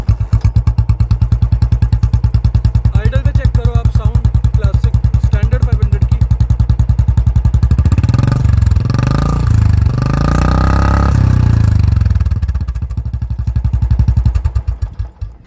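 A single-cylinder 500cc Royal Enfield Bullet Standard engine with a changed exhaust thumps loudly and steadily at idle, revving up briefly in the middle with a deep, throaty exhaust note before settling again.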